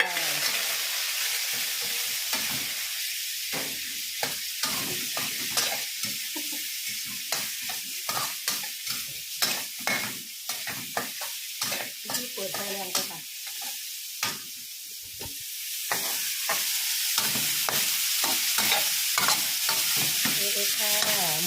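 Luffa gourd and pork stir-fried in a pan, a loud continuous sizzle punctuated by rapid rhythmic scrapes and clacks of a spatula against the metal, no voices.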